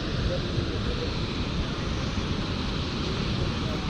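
A mountain waterfall below Pissu Top on the Amarnath Yatra route in Jammu and Kashmir roars as a dense, steady broadband rush, loud and unbroken throughout.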